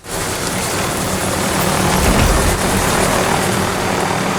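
Helicopter in the video game Call of Duty Warzone, a loud, steady rotor and engine roar filling the whole clip, close and continuous with no talk over it.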